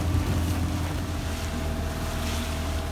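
Strong wind roars over a sailboat at sea between the Hebrides and Orkney, with wind against tide and whitecaps breaking, a loud steady rush mixed with wave wash and microphone buffeting.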